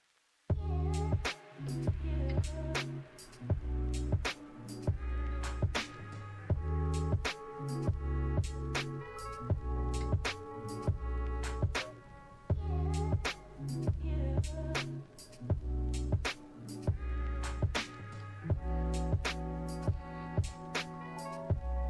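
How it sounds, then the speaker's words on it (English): Relays inside a GW Instek MSO-2074EA digital oscilloscope click during boot-up, with sharp, quiet clicks repeating at irregular intervals over a faint, steady hum. "The clicking sound you heard was the relays, which is completely normal."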